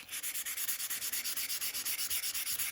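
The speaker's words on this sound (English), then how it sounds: "and just start sanding." Rhythmic back-and-forth sanding of a 1982 Honda CB900F motorcycle engine with 800-grit sandpaper wetted with WD-40, close and steady strokes repeating about eight times per second, with no talking.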